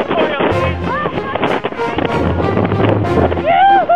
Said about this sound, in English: what's a little wind?